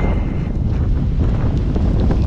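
Strong typhoon wind buffets the microphone in a loud, continuous, rumbling roar with gusty surges throughout, and no speech.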